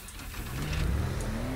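A car engine in the Teardown video game drives toward water, a steady mid-pitched motor hum that rises in pitch as it accelerates, close and continuous with no talking.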